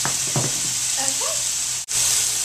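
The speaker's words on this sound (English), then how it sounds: "Now stir this around until you think there's no more pink inside" Pieces of seasoned chicken for fajitas sizzle steadily in a hot pan, with a few stirring scrapes early on and a brief dropout near the end; close and continuous, with no talk.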